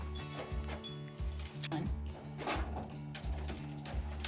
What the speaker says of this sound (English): I'm gonna put this halter on this horse.